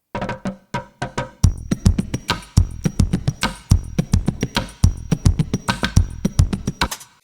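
Reworked drum beat built from kick, snare and hi-hat, playing a steady punchy groove with sharp repeated hits and a bright sustained tone over it, loud and upfront with no talking.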